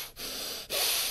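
Wooden puppet in a radio play breathing through its new nose, two strong hissing inhalations or snorts separated by brief pauses, close and loud with no talk.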